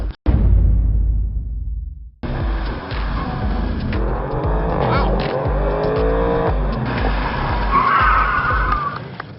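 Race car tires squeal and skid as the driver loses control on a racing school track, a long screeching slide with the engine roaring close, and a voice talking briefly partway through.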